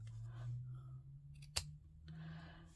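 Scissors snip through fabric or paper while a handmade fabric-covered journal is being made, giving one sharp close cut in a quiet room with a low steady hum underneath.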